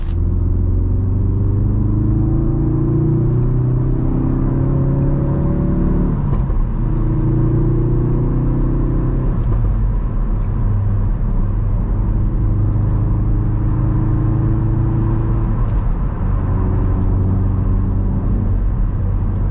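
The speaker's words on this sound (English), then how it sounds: "Do a few pulls in this Focus RS" A Ford Focus RS engine heard from inside the car in road traffic, loud close rumble rising and falling through several accelerating pulls and gear changes, with no talking.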